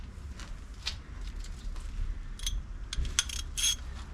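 A socket wrench works on a junkyard 1989 Firebird, giving quiet, close metallic clicks and clanks in irregular bursts, with a few sharper ratcheting ticks near the end and no speech.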